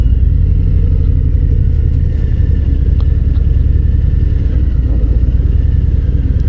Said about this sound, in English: These tires handle the steel grating on this bridge just fine.